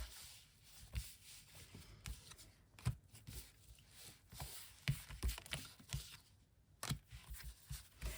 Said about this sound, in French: je tire les cartes devant vous